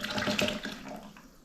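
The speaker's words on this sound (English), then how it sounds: "I'm going to go ahead and pour this in here." Butternut squash soup pours into a blender in a wet, splashing stream that trails off to quieter drips near the end.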